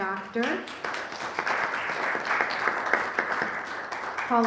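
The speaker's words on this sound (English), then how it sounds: "please stand so we can applaud you" An audience applauds with dense, steady clapping throughout, and a voice speaks briefly at the start and end.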